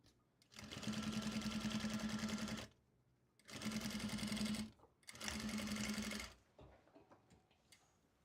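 A sewing machine stitches in three loud bursts of rapid mechanical rattling, separated by short pauses, while fabric is being sewn for a costume bustier.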